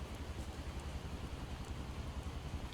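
Steady heavy rain in the video game Project Zomboid hisses in a dense, constant wash of noise, moderately quiet with no voices, like a downpour on a hard surface.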